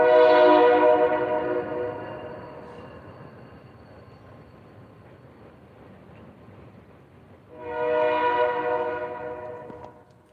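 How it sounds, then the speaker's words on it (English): A passing train sounds two loud, long horn blasts, one at the start and one near the end, over a continuous rumble of rolling cars. "Fucking train going by."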